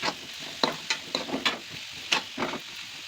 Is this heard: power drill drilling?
no